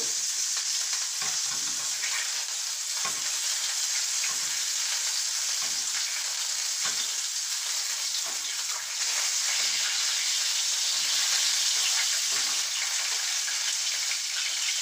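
Veal noix, opened with its fat, sears in a tilted pan, giving a steady, close frying sizzle for about fifteen seconds with occasional soft ticks and stirs.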